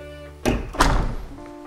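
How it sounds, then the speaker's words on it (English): A house front door in a newly built home is opened, giving a couple of dull thunks and a brief rush of air against a quiet electrical hum. "I'm gonna open the front door now."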